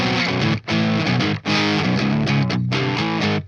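Electric guitar played through the clean channel of a Brunetti amp, a near-clean tone with slight grit, strummed chords ringing loud and sustained with two brief gaps between phrases.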